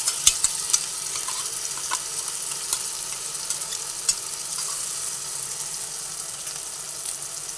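Onions frying in a pan with a ground cashew and peanut paste mixed in, a steady close hiss of sizzling oil broken by occasional small clicks of stirring, with no voices.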